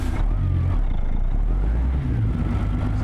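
Truck engine in the video game American Truck Simulator, set in a winter landscape: a loud, close, steady low engine drone with a slight rise in pitch partway through, heard alone without talk.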